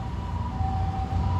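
A fire engine siren sounds at a fire station as a steady, sustained wail holding one pitch, heard from a moderate distance over a low background rumble.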